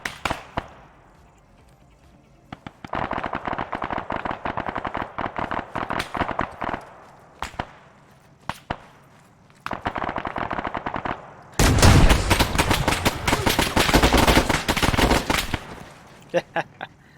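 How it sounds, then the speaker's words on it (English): A .50 caliber machine gun in Arma 3 fires in long, loud, rapid automatic bursts separated by short pauses, with a heavier, denser stretch of fire near the end. "that 50 cal tried to light me up"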